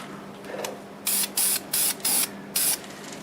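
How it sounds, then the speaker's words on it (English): An aerosol can sprays finish inside a black walnut wood turning in five short hissing bursts of roughly a quarter second each, close and loud, after a quiet start. "spraying the inside will be a little harder, but I'll just go like this."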